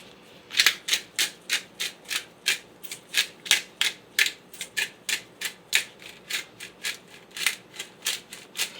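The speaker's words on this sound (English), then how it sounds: "instead of twisting the pepper grinder in a circle, you also have the option to twist it left to right" A hand pepper grinder twisted back and forth, left to right, gives a steady run of about two dozen crisp, gritty crunching bursts in even rhythm, close and clear with no talk.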